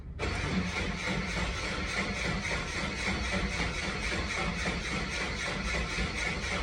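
A rally car engine cranks and catches almost immediately, then settles into a loud, steady, close-up roar that holds without a break.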